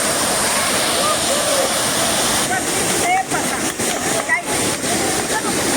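Continuous rushing roar of the Savdav waterfall near Kankavli close by, with brief voices and chatter breaking in over the second half.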